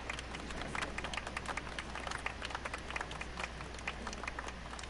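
Scattered light clapping from a small group in a video game, soft and continuous for a few seconds, with a low hum underneath.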